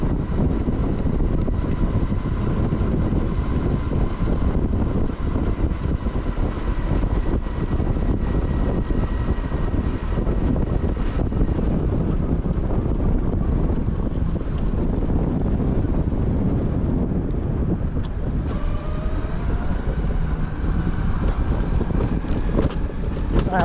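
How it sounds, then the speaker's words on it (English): Strong wind buffets a microphone fitted with a windshield during a cycling ride, producing a loud, continuous low rumble and roar with gusty surges throughout. "You can hear how windy it is."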